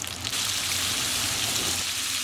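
Buttermilk-battered beef steak fingers deep frying in hot oil, a steady dense sizzle and crackle held close and even throughout.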